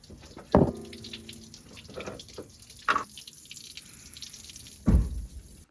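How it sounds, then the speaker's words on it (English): Coolant water draining from the radiator bleed screw of a Ford Escort RS 2000 during a turbo build, heard as intermittent drips and splashes with three louder gushes against a quiet garage background. "is undoing this radiator bleed screw to drain the water."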